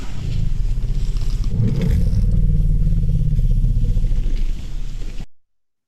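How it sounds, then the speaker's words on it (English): An African savanna elephant gives a greeting rumble: a deep, throbbing, engine-like low drone that rolls on steadily for about five seconds before cutting off into silence. "So here's an example of a little greeting rumble, first Erin and then Enid."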